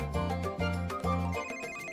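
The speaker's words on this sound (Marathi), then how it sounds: "हा, रिंगटोन काय ओळखीची वाटत नाही." A mobile phone ringtone plays loud and alone at night in a home, a repeating melodic tune in short rhythmic phrases that restart about every half second, with no talking over it.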